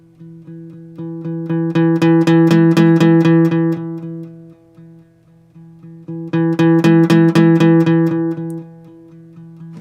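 A guitar strummed rapidly, swelling steadily louder and then fading away, with the pattern repeated twice, alone and close.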